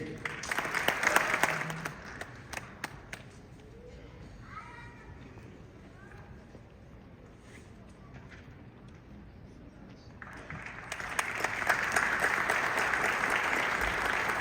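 Audience applause at a community cultural celebration, a burst of clapping that fades into quieter murmuring and voices, then swells again into a second strong round of applause near the end.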